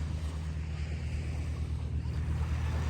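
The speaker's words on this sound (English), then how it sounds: "The sounds of the waves crashing on the shores." Ocean waves wash steadily onto the shore of a coastal village in Hong Kong, a continuous low rumble and hiss with wind buffeting the microphone throughout.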